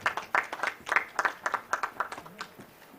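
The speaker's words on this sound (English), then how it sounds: "Let's give a round of applause to the chairman." A small group at an annual general meeting claps for the chairman, with distinct individual claps in a loose rhythm that thin out toward the end, moderately close and without speech over them.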